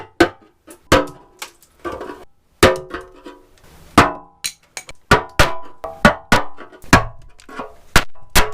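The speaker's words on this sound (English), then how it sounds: "I'm going to try to chisel this stuff out with a screwdriver and a hammer" Repeated sharp metallic strikes of a hammer on a screwdriver chiselling Bondo off a motorcycle gas tank, irregularly spaced, loud and close, with brief scraping between blows.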